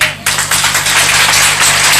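An audience breaks into applause after a brief quiet start, a dense, steady wash of clapping that holds loudly to the end over a faint electrical hum.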